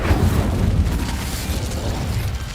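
A roaring Incendio fire spell blast in the game Hogwarts Legacy, a loud, sustained whooshing burst of flame that fades slightly toward the end.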